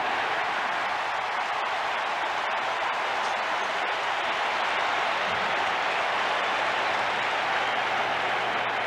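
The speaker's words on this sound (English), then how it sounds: "This Pirate crowd likes the way this one has started, with Drabek getting the first 2" Pittsburgh Pirates crowd at the 1991 NLCS Game 1 against the Braves cheers and applauds in a large ballpark, a loud continuous roar of clapping and voices sustained evenly for nearly nine seconds.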